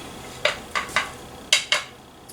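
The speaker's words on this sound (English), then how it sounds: "So I'm just going to evenly distribute my batter here." Cake batter is moved from a mixing bowl into cake pans, heard as five sharp metallic taps and knocks of a utensil against the bowl in two quick groups, close and distinct.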